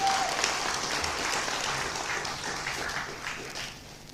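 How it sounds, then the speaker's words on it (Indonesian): Audience applause at a Nasdem party political event, steady dense clapping that fills the room throughout and eases off slightly toward the end. "Kita berikan aplaus."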